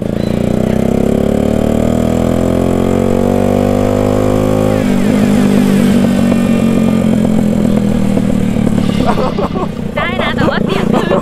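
A loud motorcycle engine revs close by, rising steadily in pitch before dropping into a rough, throaty idle and revving again near the end, heavy and continuous, with no talking.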